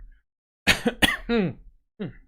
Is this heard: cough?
yes